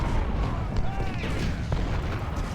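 Rumbling booms and cannon blasts from an artillery battery in Ultimate General: Civil War, a dense, continuous battlefield roar with scattered distinct shots and someone speaking over it.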